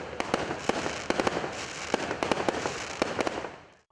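Fireworks bursting at the close of a club inauguration ceremony with a laser light show, a rapid, irregular string of sharp cracks and pops over a constant crackling rumble, fading out at the end.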